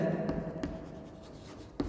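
Writing on a board during a class VII maths lesson: a few faint, scratchy strokes and light taps over a soft room hum, with no voice.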